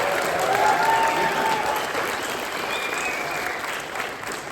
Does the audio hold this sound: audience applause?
yes